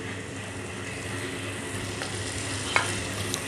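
Chopped onion, tomato and green chillies fry steadily in a pan for chicken karahi, giving a low continuous sizzle with faint stirring and one brief clink near the end, with no talking.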